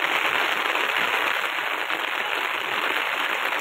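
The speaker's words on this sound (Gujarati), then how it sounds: "હવે ફૂલ વરસાદ ચાલુ થઈ ગયો છે" Heavy monsoon rain pouring down outdoors, a dense, steady hiss of drops on surfaces filling the whole moment, close and fairly loud, with no voices.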